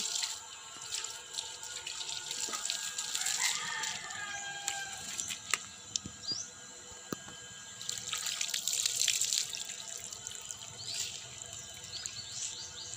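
Clear water gushes strongly and steadily from a tap, with splashing bursts and scattered drips, and faint birdsong in the background.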